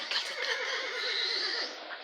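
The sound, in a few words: horse neighing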